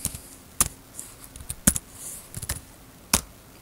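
A few sparse, crisp keystrokes tap on a computer keyboard as a password is typed, spaced irregularly with quiet gaps between clicks.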